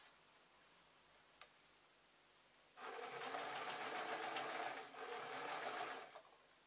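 A sewing machine stitches steadily over gathered fabric, a fast even mechanical whir with ticking, starting after a few quiet seconds, briefly easing, then running on close by before stopping.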